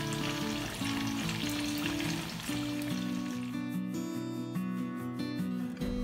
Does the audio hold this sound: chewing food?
no